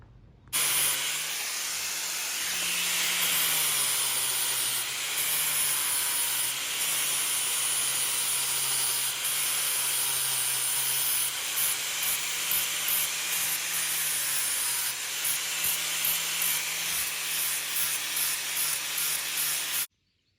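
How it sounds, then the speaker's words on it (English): A small steel push dagger being shaped and sharpened, likely on a belt grinder, giving a steady loud abrasive grinding hiss with a low motor hum underneath, running continuously for about twenty seconds without speech. "gonna get that shaped up real quick, get it sharpened, and have a nice little push dagger."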